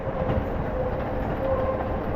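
An underground metro train in Istanbul rumbles steadily and fairly loudly throughout, with a continuous low roar of wheels on track and no voices.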